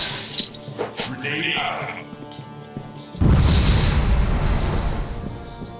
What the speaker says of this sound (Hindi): गाइस मैंने ऐसे एक बम फोड़ दिया।